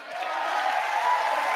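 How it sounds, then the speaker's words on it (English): Applause fills a large chamber at a State of the Union address, a steady wash of many hands clapping from a sizable crowd, sustained evenly for a short moment without a break. "Half the room's clapping"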